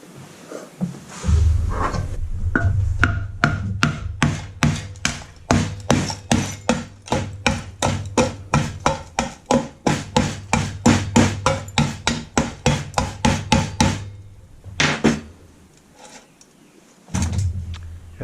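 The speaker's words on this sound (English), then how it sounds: "And then we're going to knock some glass out." Dozens of sharp knocks as glass is knocked out of a kiln fusing vessel, in a steady, fairly quick rhythm, close and loud, with brief pauses near the end and a final few strikes.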